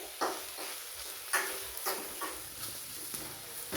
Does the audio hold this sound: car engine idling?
no